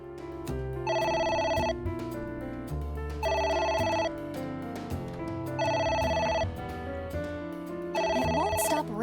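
A telephone rings repeatedly in AI: The Somnium Files, with four long bursts of bright electronic bell tones in a steady rhythm over game music, fairly loud and without talk.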